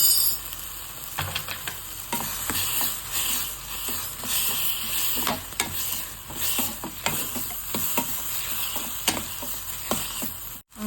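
Ginger garlic paste fries with onion and tomato in a pan for a mushroom gravy, giving a soft continuous sizzle broken by frequent scraping clicks of a spoon stirring against the pan.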